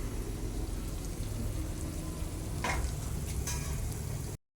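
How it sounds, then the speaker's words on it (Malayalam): Fish dropped into bubbling mango curry with curry leaves, a steady loud sizzling boil throughout with a brief splashy burst near the middle, no talking. "ഇപ്പൊ മീൻ ഇടുന്നേ"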